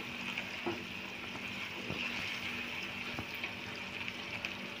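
Chopped ginger and garlic frying in a pan for masala capsicum, a soft continuous sizzle with faint stirring clicks, fairly quiet and steady with no talking.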